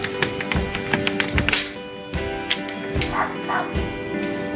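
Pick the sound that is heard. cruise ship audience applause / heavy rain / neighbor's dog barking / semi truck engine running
neighbor's dog barking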